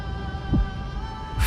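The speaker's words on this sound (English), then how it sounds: "Phainon's heartbeat." Phainon's faint heartbeat in the video game Honkai: Star Rail, two soft, low thumps spaced about a second apart over a steady droning hum.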